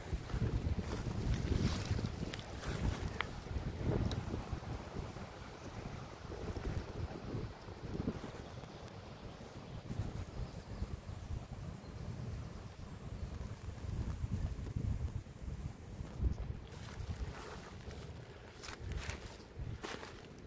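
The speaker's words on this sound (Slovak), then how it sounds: "Dnes duje silný vetrisko." Strong wind buffets the microphone outdoors on a cool day, a continuous loud rumbling roar with gusty surges and no voices.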